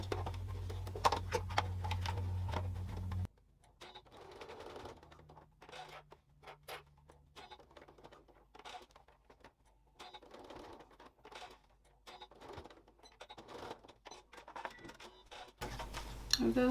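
Sewing machine stitching a small box shape on a felt case, a steady mechanical whir with rapid needle ticking, close and moderately loud, with brief stops and handling noises.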